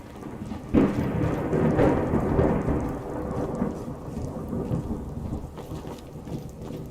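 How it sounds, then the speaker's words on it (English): Rolling thunder from a Skyrim thunderstorm rumbles over steady rain, with a louder crack near the start fading into a long low growl. "That is one big thunderstorm coming in."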